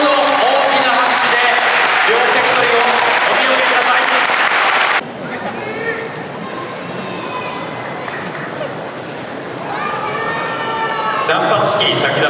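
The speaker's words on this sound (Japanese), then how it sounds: "どうぞ大きな拍手で両関取をお見送り" A sumo crowd at a retirement hair-cutting ceremony claps loudly for the two wrestlers, a heavy ovation that cuts off abruptly partway through, followed by quieter hall noise and a voice speaking over a PA before the applause swells again.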